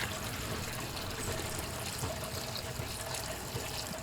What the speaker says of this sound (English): all that newly acquired space in my stock pot's about to be taken up by the liquid from my temporary stock pot going in